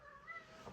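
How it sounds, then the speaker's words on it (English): A cat meows faintly in the background of a quiet indoor room, with thin tonal cries drawn out over a moment and no one speaking over them. "Apologies if you can hear the stupid cat meowing in the background"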